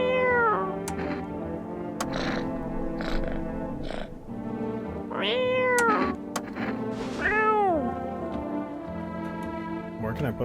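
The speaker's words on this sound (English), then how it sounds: "Where can I put this cat?" A cat meows repeatedly in the video game No, I'm Not A Human, with several rising and falling calls spread across the stretch over a steady low background, and people talking at points.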